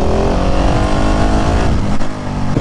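A Husqvarna 701 motorcycle engine droning loudly and close while being ridden, a sustained throaty roar with a brief dip near the end.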